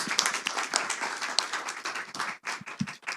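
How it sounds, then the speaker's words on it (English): Audience applause for the speakers of a poker panel at a conference in Dublin, heard as a dense, close patter of clapping hands that thins briefly near the end before a few final claps. "Will you please give a round of applause to our wonderful speakers?"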